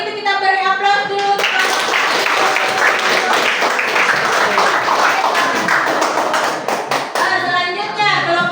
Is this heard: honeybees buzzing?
no